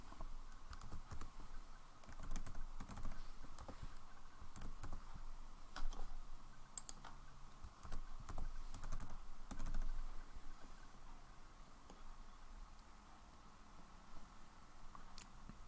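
Rapid keystrokes on a computer keyboard as a password is entered, a steady patter of close, crisp clicks with short pauses and a few louder taps, heard alone without talk.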